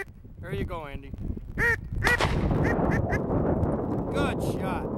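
A shotgun fires at ducks during a hunt with a trained bird dog, a sharp blast that breaks through a burst of duck quacks and honks and is followed by a rumbling roll of noise.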